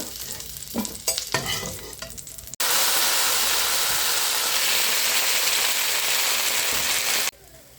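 Coriander and mint leaves sauté in a pan, starting with a few scattered clatters of stirring before a loud, continuous sizzle takes over for several seconds and then cuts off abruptly.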